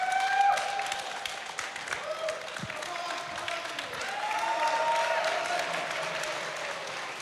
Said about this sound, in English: So if I could please have a round of applause for all the wonderful judges